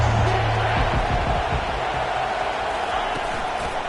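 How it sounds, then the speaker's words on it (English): A steady, dense roar from a stadium crowd in an NCAA college football video game featuring the Aggies, filling the scene continuously with commentary voices faintly mixed in. "this crowd is tearing the lid off this place."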